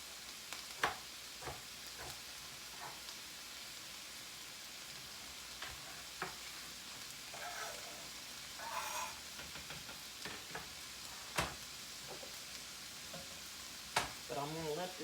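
Cabbage and mushrooms fry in a pan with a steady close sizzle, broken by occasional clacks of stirring and a few quiet spoken words.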